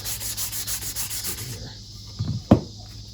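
Reclaimed scrap wood being scuffed up for a strop, several close rhythmic rubbing strokes that fade out, followed by a couple of soft knocks and a sharp thump.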